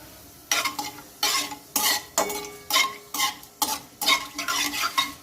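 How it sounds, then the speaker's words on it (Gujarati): Cumin seeds crackle in hot oil over a high flame, overlaid by a regular series of about ten sharp scraping stirs of a spoon against the pan. "હવે આપણું જીરું તતડી ગયું છે।"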